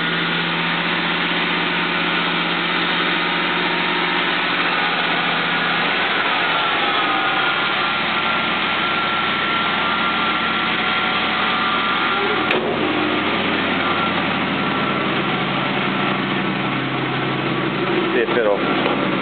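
A 1979 Hurst Olds sits idling with a steady, loud engine rumble and a whining hiss from power steering low on fluid, with a brief click partway through.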